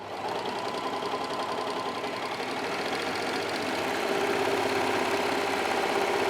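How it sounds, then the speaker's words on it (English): A Brother 3034D overlocker running a 4-thread overlock stitch, its rapid mechanical chatter steady and close, holding a constant pace for several seconds with no voices. "we'll go ahead and sew that 4-thread overlocking stitch"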